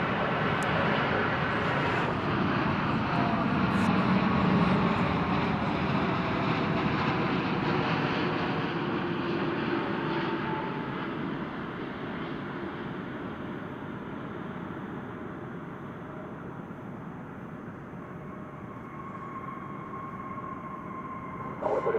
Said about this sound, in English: the big Dreamliner as it ends its trans-Pacific journey